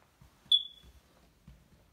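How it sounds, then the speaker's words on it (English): A single short, high electronic chirp rings out once, faint and thin, over a quiet room with soft background bumps. "Smoke alarm needs a battery."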